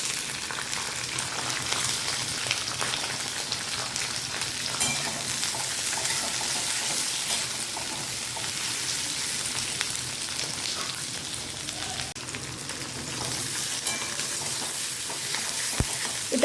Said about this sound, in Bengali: এবারে এই তেলেতেই একটু এই ক্যাপসিকাম আর পেঁয়াজ একটু হালকা করে ভেজে নেব